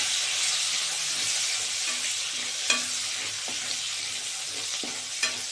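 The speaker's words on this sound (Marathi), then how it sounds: "यात आपण कांदे टाकून देऊया, कांदे लांब चिरलेले।" Lengthwise-sliced onions fry in hot oil for a soya chilli dish, a bright continuous sizzle with a few scattered taps of a utensil against the pan.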